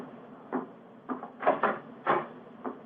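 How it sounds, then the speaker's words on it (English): Front door being opened as a radio drama sound effect in an old Sherlock Holmes broadcast, a series of wooden knocks, clunks and rattles, some doubled, fairly near and with no talk. "Mrs. Hudson's opening the door to him now."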